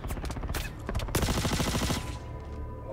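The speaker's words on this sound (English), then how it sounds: "Oh, he's shooting like crazy." Rapid bursts of automatic gunfire from a shooting video game, dense overlapping shots for most of the stretch before easing off near the end, loud and close with no talk over it.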